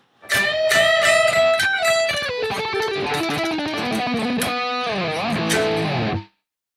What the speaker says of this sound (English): that's basically how distortion is used